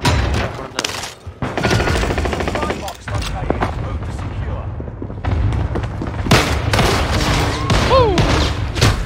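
Gunfire and explosions in the Warzone battle-royale shooter on Rebirth Island, with bursts of automatic fire and heavy booms mixed into a busy, loud game soundscape while players talk over it.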